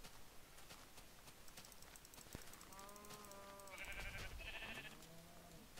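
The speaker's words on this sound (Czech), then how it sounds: "hele ovce" Sheep bleating in the video game Minecraft, several wavering bleats in succession at moderate volume over quiet game ambience, with faint clip-clop steps and no speech.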